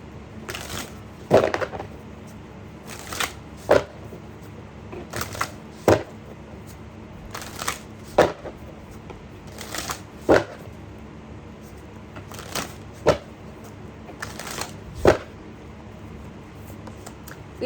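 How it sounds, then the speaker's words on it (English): Animal oracle cards being shuffled by hand, a series of soft riffling and tapping bursts repeating every second or two, close and quiet with no talking. "Let's get an animal oracle card for Libra."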